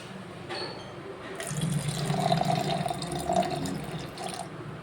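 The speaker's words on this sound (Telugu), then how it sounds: "ఇప్పుడు ఇందులో నేను వాటర్ కలుపుతున్నాను. అది కూడా ఐస్ వాటర్ అనమాట." Ice water poured into cream in a mixer jar for homemade butter, a close pouring and trickling splash that builds over a few seconds, with faint voices in the background.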